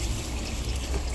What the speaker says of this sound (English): I gotta water it.